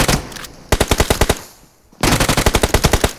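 M4 rifle gunfire in PUBG, a game battle: rapid automatic bursts of sharp, loud shots in two volleys separated by a short pause, with no talk over them.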